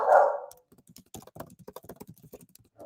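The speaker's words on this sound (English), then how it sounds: "there goes my dog" A dog gives one loud bark at the start, then a run of keyboard typing clicks follows close by with no talking.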